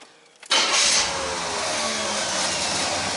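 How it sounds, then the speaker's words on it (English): Car engine cranked by its starter motor catches abruptly and settles into a steady, loud idle close by, after a period of smoky rough running. "Just got to give you a show of how good the starter works now."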